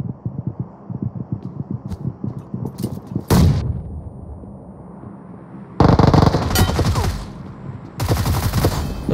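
Bursts of automatic gunfire in PUBG Mobile, with scattered shots at the start, then loud, dense volleys in separate bursts, and no talk.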